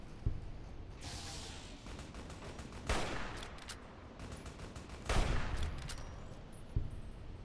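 Bursts of gunfire in the video game Fallout, several sharp loud shots spaced a few seconds apart over a steady background din, no talk.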